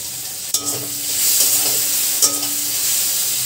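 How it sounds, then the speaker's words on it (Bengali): Potatoes fry in a pan, giving a steady loud sizzle broken by a couple of sharp scraping stirs of a utensil, with no one speaking. "আলুটা ভাজা ভাজা হয়ে গেছে"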